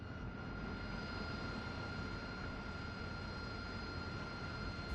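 The jet engine of an AV-8B Harrier runs steadily in DCS, a continuous loud roar with a persistent high whine and no pauses.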